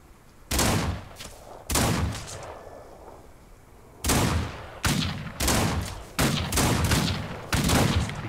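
Gunfire in an Old West video game at a snowy lakeside at night: a series of loud, sharp gunshots, two early and then a rapid run of five or six close together, each with a booming tail.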